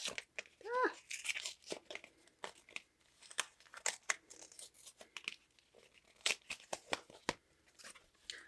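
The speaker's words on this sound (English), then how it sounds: "I have the hardest time opening these envelopes on camera," Paper envelope from a planner sticker subscription being torn open in short, crackly rips and crinkles, close and fairly quiet, with a brief voiced sound early on.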